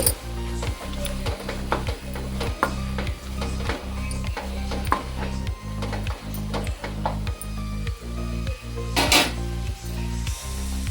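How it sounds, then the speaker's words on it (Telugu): A spoon stirs amaranth leaf fry with chili powder in a pan, giving a steady rhythm of scraping strokes about twice a second over a soft sizzle, with a louder clatter near the end. "ఇప్పుడు వన్ టీ స్పూన్ కారం వేస్తున్నాను అంత బాగా కలుపుకోవాలి"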